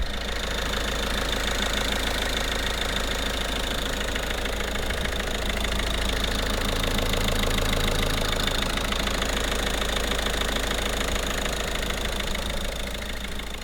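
A Peugeot 508 1.5 HDI diesel engine idles steadily after reassembly with a low, even rumble and a faint mechanical rattle, continuous and close, with no voices.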